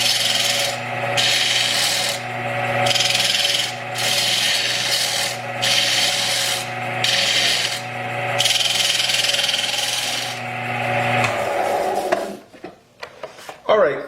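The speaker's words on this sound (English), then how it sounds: "I have our stabilized, fossilized bread mounted to a faceplate, hot glued to the lathe." A wood lathe turns a piece of stabilized, fossilized bread hot-glued to a faceplate, giving a steady motor hum under rhythmic rasping cuts that come in repeated bursts, then a clatter as it winds down.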